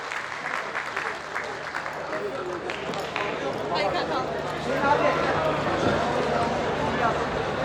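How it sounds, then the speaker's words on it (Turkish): Audience applause for the winning teams at a university young chefs cooking competition award ceremony, sustained clapping that swells slightly toward the end, with talk faintly underneath. "Kuvvetli alkışlar bir kez daha ekip yarışması kazananlarına."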